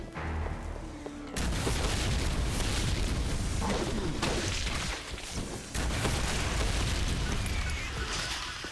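Dense, continuous barrage of explosions and gunfire in a video game, loud and sustained with a brief drop near the start and another dip midway before the roar resumes.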